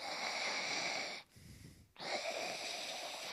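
A man on stage imitates Darth Vader-style sleep breathing with his voice, a loud rasping wheeze drawn in and pushed out with a short pause between the two breaths.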